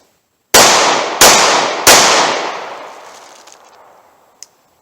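Three 9mm duty pistol shots fired in quick succession from five yards with Winchester white box ammunition, sharp loud cracks roughly half a second apart, each ringing out with a long decaying echo, followed by a faint metallic clink.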